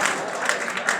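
An audience at a shayari poetry recital gives a short burst of applause, close and lively claps with crowd murmur over about a second.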